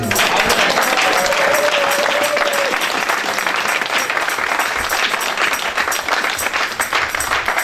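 A church congregation bursts into sustained, loud applause and cheering to acclaim God, a dense wash of clapping that continues steadily throughout.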